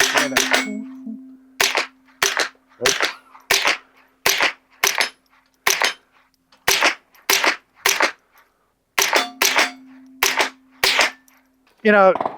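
Ten sharp rifle shots suppressed by a Shadow Silencers Duo Mini crack out in quick succession, close and loud, with a brief pause partway through and a low steady hum in the background.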